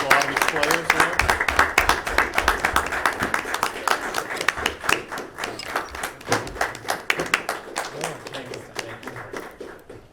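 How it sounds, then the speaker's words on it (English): Audience applause at a school committee meeting, a steady, moderately loud patter of many hands clapping throughout, slowly thinning toward the end, with faint voices underneath. "How about a round of applause?"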